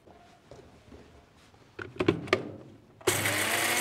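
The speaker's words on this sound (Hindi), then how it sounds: "इस तरीके से मिक्सी के जार में डालेंगे और इनको दरदरा सा पीस लेंगे" Dry-roasted whole spices rattle and clack into a mixer grinder jar, then the motor starts abruptly for a coarse grind, giving a loud, steady, close whirring roar for the last moment.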